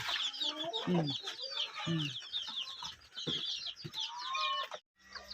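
Domestic chickens on a Thai farm cluck and chatter continuously close by, several birds at once with busy overlapping calls, a voice talking in the background.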